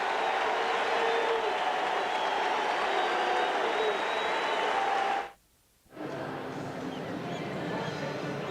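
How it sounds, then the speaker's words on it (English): Warm applause from a baseball crowd at a San Francisco stadium during an MLB playoff game, a steady dense clapping wash that cuts out briefly before resuming slightly softer. "he'll get a warm round of applause from the crowd in San Francisco"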